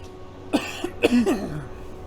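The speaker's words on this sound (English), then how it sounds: "I just coughed my brains up" A man coughs several times in quick succession, harsh and close, with a rasping tail at the end over a quiet room.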